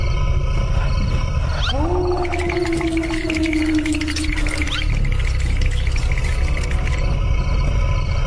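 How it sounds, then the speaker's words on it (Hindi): A loud, drawn-out animal-like roar with a long sliding groan, like an exaggerated cartoon snore, rising then dropping over a rumbling background. "गेंदा सेठ भयंकर खर्राटे ले रहा था"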